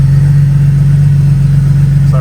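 Ford Barra engine idling steadily in a car lifted for servicing, a loud constant low hum with an even mechanical drone throughout, no change in revs, close up.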